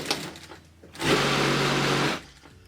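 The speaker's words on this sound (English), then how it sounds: "stitch it closed" Sewing machine stitching a fabric laundry scrub bag closed, a steady whirring run of about one second that starts and stops abruptly, close and fairly loud, with faint handling noise before and after.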